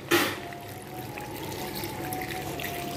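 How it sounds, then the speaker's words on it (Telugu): Water pours steadily into a pot of farm-raised chicken curry to simmer it. The pour begins with a brief splash, then settles into a continuous, even flow. "ఇప్పుడు వాటర్ వేసుకుందాము, కూర ఉడవడానికి సరిపడా వాటర్ అండి."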